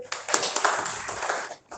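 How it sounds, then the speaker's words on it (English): A classroom of students claps together to reward a classmate's good answer: a dense, steady burst of group clapping that lasts a little over a second and a half, then breaks off abruptly. "Clap for him"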